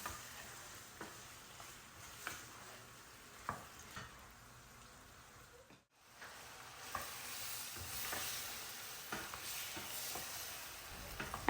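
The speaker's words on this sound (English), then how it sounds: "I will now increase the flame and cook it on high heat until the mutton changes its color." Mutton with spices fries on high heat in a pan, a faint steady sizzle broken by occasional spoon taps and scrapes, with a brief dropout midway before the frying resumes.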